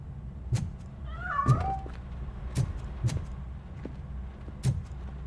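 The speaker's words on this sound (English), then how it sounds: "That cat must be hiding inside." A cat meows in the RoboCop: Rogue City video game: one clear mewing call against a quiet background, with a few soft thuds and knocks from the game around it.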